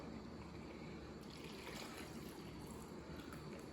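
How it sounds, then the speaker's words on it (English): Water trickles steadily and quietly into a blender for a banana, kale and raspberry protein shake, a soft continuous pour with no voices. "You're gonna put some water."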